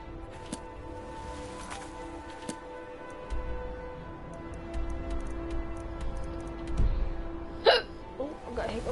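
Hiccups from a person playing Skyrim, a few sharp, short hiccup bursts scattered among quiet game ambience, with talking at points.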